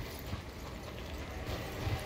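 Horse hooves galloping in the video game Elden Ring, a quick steady clip-clop rhythm running through the whole moment at moderate, even loudness with no voices over it.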